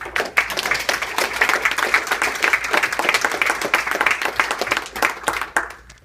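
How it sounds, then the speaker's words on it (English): Students at a school mock trial receive a round of applause from the room, a smaller group clapping with distinct individual hand strikes audible, swelling and tapering off toward the end. "give a round of applause for these students"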